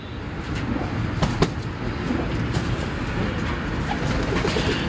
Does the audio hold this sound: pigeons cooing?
yes